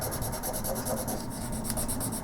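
A cloth rubs steadily across the plastic case of a ZX Spectrum +2A computer during cleaning, making a continuous close-up scrubbing swish with a quick repeated back-and-forth rhythm.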